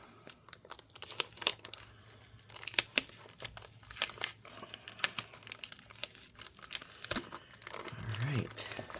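An adhesive-backed LCD screen is peeled out of an HP Spectre x360 laptop: continuous close crinkling and tearing crackles with sharp irregular snaps, and a faint voice near the end.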